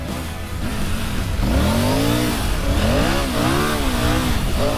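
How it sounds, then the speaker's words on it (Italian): A Triumph Tiger 900 motorcycle engine revs hard again and again, its pitch sweeping up and down in rapid throttle bursts, loud and close with steady idle rumble underneath. "guardate come giro di gas, è pazzesca"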